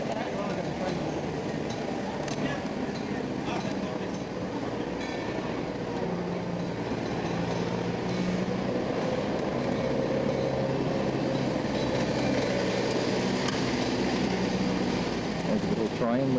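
A refuse collection vehicle rumbles past on a street in Normandy, France, a loud, steady low engine drone that holds for the whole stretch with no voices.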